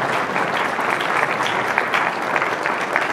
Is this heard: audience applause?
yes